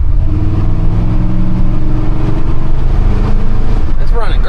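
A cammed Chevy C10 Squarebody truck with a Holley carburetor, warmed to operating temperature, driving with a loud, lumpy engine drone close to the microphone, steady throughout and rising slightly in pitch near the end.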